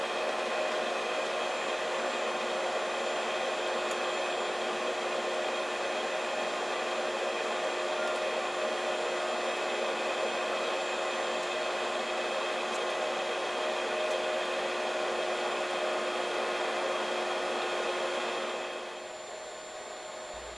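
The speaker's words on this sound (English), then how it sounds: "I clamp it in the vise on the mill to cut the outside keyway" A milling machine cutting an outside keyway in a steel quill wheel adaptor blank clamped in a vise, a steady, even whirring hum with faint tonal whine that runs continuously before dropping off near the end.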